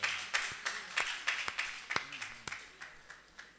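An audience at a Hindi kavi sammelan poetry recital claps steadily, a dense patter of hands with sharper individual claps poking through, moderately loud and continuous across the clip.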